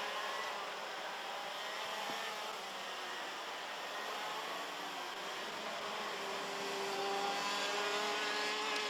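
X30 senior racing karts circle the track at Ostricourt during a final, their engines making a continuous, fairly faint buzzing drone with shifting whines as the karts pass at a distance.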